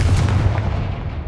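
A Confringo blasting spell in Hogwarts Legacy goes off as a loud, heavy boom with a rumbling low-end tail that fades over about a second, no voices present.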